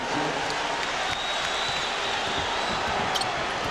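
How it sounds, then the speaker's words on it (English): Dense roar of a basketball arena crowd at the Delta Center during a 1998 NBA Finals game between the Utah Jazz and Chicago Bulls, steady and loud, with faint sneaker squeaks and ball bounces in the mix. "Listen to this crowd at the Delta Center."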